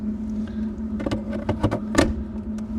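A steady low droning hum of a diesel heater running, with a few sharp clicks and knocks over the top.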